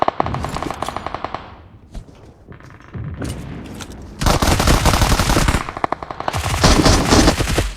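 Automatic rifle spray in the mobile game PUBG Mobile, loud rapid bursts of gunfire near the listener, a short burst, a pause, then two long sustained sprays, with no talking.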